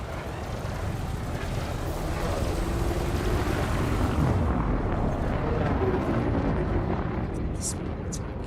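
Ship weapons fire in the space combat game Elite Dangerous: loud, continuous rumbling blasts and booming bursts over a dense roar, steady throughout with no voice heard.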